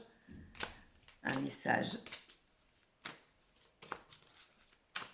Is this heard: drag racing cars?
no